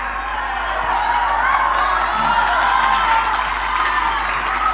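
An audience at a Ramadan religious gathering claps and cheers, a steady wash of applause with scattered shouts and laughter across a large reverberant crowd.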